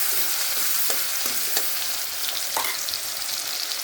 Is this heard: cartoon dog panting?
no